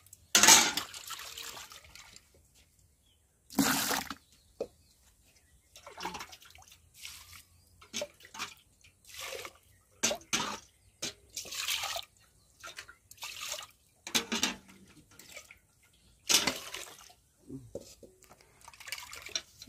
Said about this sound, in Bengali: তরকারি ধুয়ে নেওয়া হচ্ছে, চচ্চড়ি কাটছে, সেটা ভালো করে ধুয়ে নিচ্ছে।